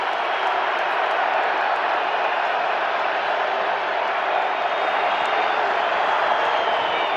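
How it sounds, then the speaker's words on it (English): A football stadium crowd at an NFL game between the Los Angeles Rams and Minnesota Vikings roars in a dense, sustained wash of cheering that holds steady and loud for the whole stretch. "The crowd noises is big time right now as these fans are totally into it"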